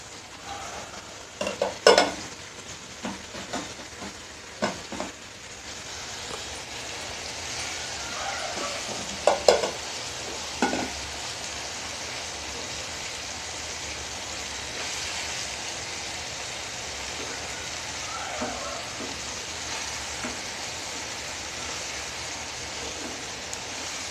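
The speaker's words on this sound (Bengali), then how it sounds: "আমি কিছুক্ষণ একটু নাড়াচাড়া করে কষে নেবো" Chicken bhuna cooked with whole spices and tomato sizzles and fries steadily in a pan, with scattered clinks and scrapes from stirring, busiest in the opening seconds, then settling into a constant close frying hiss with occasional taps.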